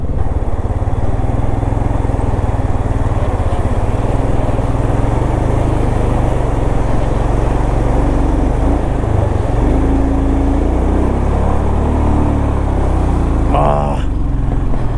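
Royal Enfield motorcycles ford a stream on a rough Ladakh road between Leh and Pangong, a loud, continuous engine rumble mixed with rushing, splashing water, with muffled voices in the background.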